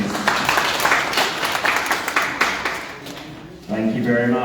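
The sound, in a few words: audience applause at a workshop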